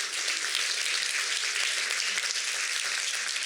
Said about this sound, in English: you need to give yourselves a big applause